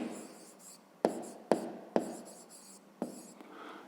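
Handwriting a math expression on paper, soft scratching pen strokes broken by several sharp taps as the pen lands, close and quiet with no talking.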